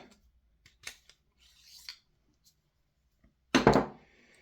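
The barrel is slid out of a Tokyo Marui MK18 airsoft rifle with the hop-up off: a short, close metallic scrape and rustle near the end, preceded by a few light clicks and handling sounds.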